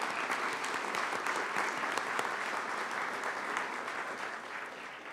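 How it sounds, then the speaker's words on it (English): Audience at a fall community college commencement ceremony applauding, a broad, sustained roar of many hands clapping in a large hall, even in level and carrying on for several seconds without speech. "I would ask that we just recognize them with a round of applause."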